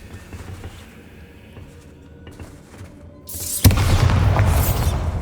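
Bombarda spell explosion in the Hogwarts Legacy video game, quiet ambient game sound followed by a sudden loud booming blast that rumbles on for a couple of seconds.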